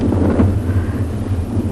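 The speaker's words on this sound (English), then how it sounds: "You can hear that the wind has picked up quite a bit." Strong gusting wind buffets the microphone at an open dam in the Tswalu savanna, a steady low roar with swelling gusts and no voices.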